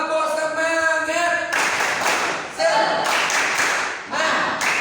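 A group of pupils in an Indonesian classroom does a rhythmic tepuk semangat clapping chant, loud and close, with sung or chanted voices over patterned bursts of claps.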